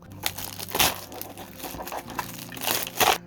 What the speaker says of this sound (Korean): 비닐을 벗기니까 깔끔하네요